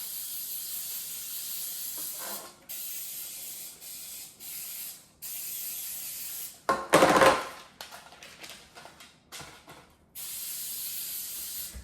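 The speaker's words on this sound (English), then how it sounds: "we have to spray some cooking oil" Cooking oil sprays from an aerosol can into a cake pan as bursts of loud, close hissing, several sprays of a second or more separated by brief pauses, with one short rattly clatter in the middle.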